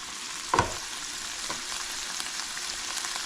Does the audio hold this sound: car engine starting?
no